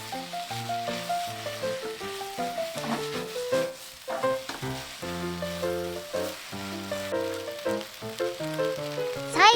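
Yakisoba noodles and sauce sizzling in a pan while being stirred, a steady soft crackle running beneath louder melodic background music throughout.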